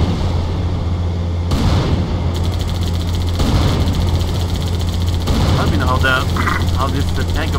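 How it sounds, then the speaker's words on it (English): Halo 2 tank cannon firing in quick succession, several heavy booms over a constant low engine hum and battle noise, with voices talking throughout. "this tank over here can actually fire pretty goddamn fast though too"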